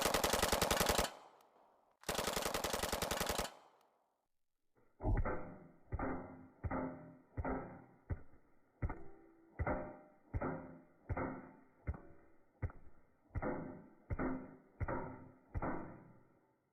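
Two long, loud bursts of rapid submachine gun fire, then a steady series of about fifteen evenly spaced metallic clanks from hits on a ballistic shield, alone with no voices.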